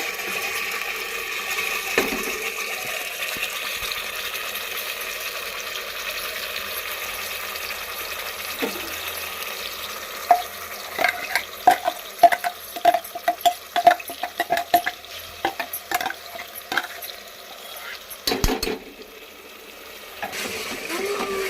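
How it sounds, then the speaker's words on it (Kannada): Ground masala paste goes into hot oil for a chicken fry, a soft steady sizzle under a run of sharp scraping and clattering stirring strokes in the pan, close and moderately loud, with no one speaking. "ಸೊ ಇದಕ್ಕೆ ಇವಾಗ ಪೇಸ್ಟ್ ಮಾಡಿರೋ ಮಿಕ್ಸರ್ ಹಾಕೋಣ"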